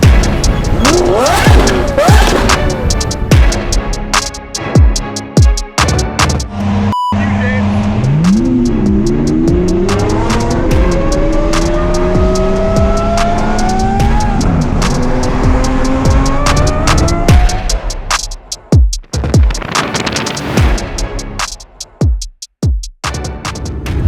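A Lamborghini Aventador SVJ drives across Asia during the Gumball rally, its engine loud and close throughout with rising gear sweeps and surges, heard alongside voices talking over the engine noise.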